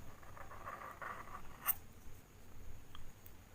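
A marker pen gliding over paper while practising Urdu calligraphy, soft squeaky strokes in a brief quiet sequence, close and faint.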